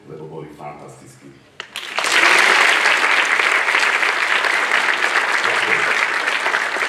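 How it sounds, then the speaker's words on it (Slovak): Audience applause for the jury at the Jazykom tanca 2022 dance competition results ceremony, bursting in loud and sustained after a short stretch of speech and continuing steadily to the end. "ešte chcem jeden potlesk, a to je pre porotu, lebo boli fantastickí"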